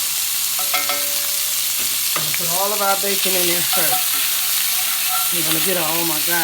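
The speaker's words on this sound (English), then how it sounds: "Put all of our bacon in there first." Bacon frying in a pan as the first step of Southern fried cabbage, a steady broadband sizzle running throughout beneath a talking voice and an excited exclamation.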